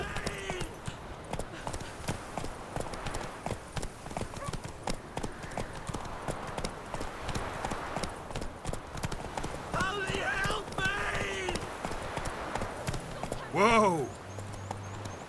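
Roach the horse gallops in The Witcher 3, rapid rhythmic hoofbeats running throughout with a whinny near the end, while someone talks over the action.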